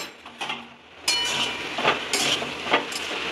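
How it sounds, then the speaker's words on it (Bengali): A metal lid clinks down onto a pot of prawn and Malabar spinach curry on a low flame, one sharp clatter after a few softer knocks of cookware, close and clear. "আমি ঢাকাটা দিয়ে দিলাম"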